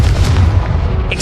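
Confringo fire spell exploding in the Hogwarts Legacy video game, a loud, close, booming blast with a heavy low-end rumble sustained through the whole short moment, no talking over it.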